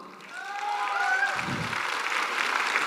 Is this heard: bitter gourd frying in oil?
no